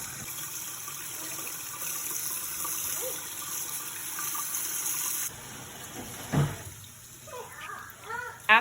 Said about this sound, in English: You're supposed to like rinse them off and like brush the inside of the groove.